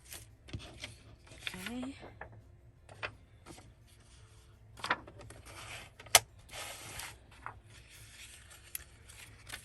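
Scissors snip through paper for a handmade mini journal, with scattered quiet cuts and rustling paper handling, plus a sharper clack near the end, under brief soft speech.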